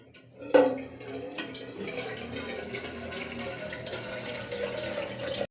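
Water runs steadily from a tap, filled to water plants, beginning with a sharp knock as the flow starts and then a continuous, moderately quiet splashing rush.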